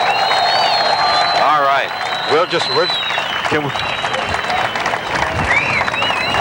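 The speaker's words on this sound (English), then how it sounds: "All that applause is, of course, for the Sagres II" Crowd on the Halifax waterfront applauds the Portuguese tall ship Sagres II during the 1984 tall ships event, sustained clapping and cheering with whistles, while someone talks briefly over it.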